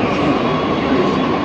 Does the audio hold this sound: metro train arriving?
yes